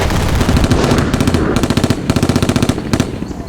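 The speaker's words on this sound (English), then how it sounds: "The jungle erupted in a cacophony of gunfire as they drew near the now desperate enemy patrol." Rapid bursts of automatic gunfire in a Vietnam War jungle battle crackle nonstop, loud and close, with overlapping shots forming a dense, chaotic barrage.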